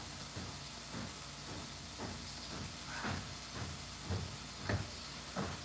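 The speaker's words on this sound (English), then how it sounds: "Oh, that sizzle is really sizzling." Beef and cauliflower sizzle in a hot pan in a home kitchen, a steady close hiss broken by occasional soft pops and clatters.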